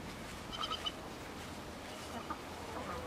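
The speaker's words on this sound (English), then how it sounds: "So here's our beautiful chickens." A few soft, brief clucks from chickens around the half-second mark, then quieter scattered calls over steady outdoor background noise.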